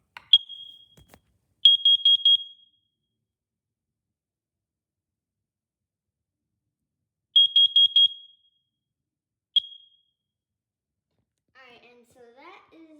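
A Kidde carbon monoxide alarm, during a test, gives a short beep, then four quick high-pitched beeps, a long silence, four more quick beeps and a single beep; faint voices follow.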